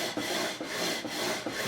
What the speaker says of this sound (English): Now using the 400 grit, same again, just smoothing everything off.